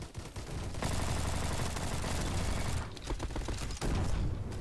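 Rapid automatic gunfire from an M16-style rifle in the Roblox game Bad Business, dense continuous bursts with short breaks, close and loud.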